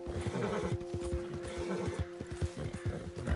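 A horse in the online video game Red Dead Redemption whinnies while its hooves clop in a steady, quick rhythm throughout, close and clear over a low game ambience.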